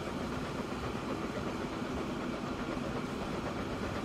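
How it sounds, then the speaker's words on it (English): A freight train runs in the video game Transport Fever 2, a steady dense rumble of engine and rolling wagons with no talk over it. "We got our first train line set up, and we got our first train on here."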